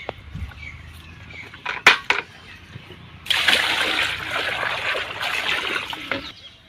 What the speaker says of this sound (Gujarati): આપણે ગાયને પાણી પી દઈએ હવે